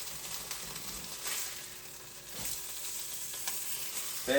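Eggs frying in a pan on a cold snowy day, a soft continuous sizzle with occasional crackles and a brief clatter near the end.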